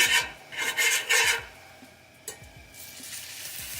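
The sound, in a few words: meat sizzling in a frying pan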